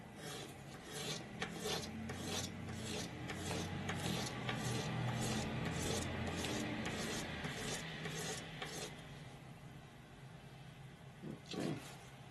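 Polishing paper rubbed over a part of a Cold Steel Frenzy III knife, a soft repeated rasping in steady back-and-forth strokes, quiet and close, with no talk.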